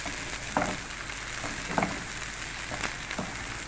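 Green herbs fry in oil while being stirred, a soft continuous sizzle broken by three or four scraping stirs at regular intervals, fairly quiet and with no voices.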